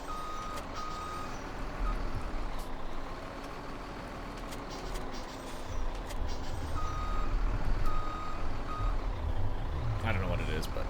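A truck hauling a heavy grain trailer in Farming Simulator 17 reverses with a repeating electronic backup beep over a low engine rumble, while someone talks over it.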